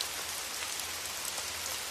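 Heavy rain pours steadily outdoors, a dense, even hiss of drops striking surfaces, continuous and moderately loud with no voices.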